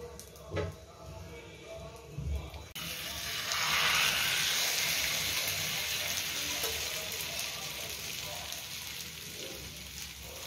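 Potato and onion Spanish-style omelette frying in a covered pan, a steady hissing sizzle that swells and then holds, with a few soft clinks early on.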